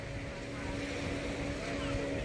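Speedboat engine droning steadily at Shivrajpur beach in Dwarka, with wind and water noise around it and faint voices mixed in.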